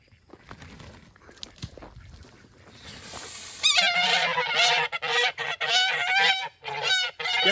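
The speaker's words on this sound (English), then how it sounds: "I think these geese escaped again." Geese that have escaped through a farm gate honk loudly and repeatedly at close range, a rising chorus of overlapping calls after a stretch of quieter rustling and movement.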